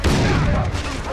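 Gunfire and explosions in the video game Far Cry 3, a dense, loud burst of shots and booming blasts filling the whole moment without pause.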